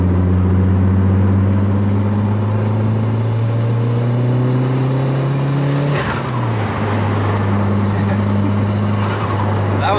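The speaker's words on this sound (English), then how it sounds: "Alright, we're in third gear. We're gonna spool up the turbo a little bit, nothing crazy." A 1997 Mitsubishi Eclipse GSX turbo pulls steadily in third gear on low boost, its engine drone rising in pitch, then dipping briefly at a gear change or lift around the midpoint before climbing again, loud and close throughout.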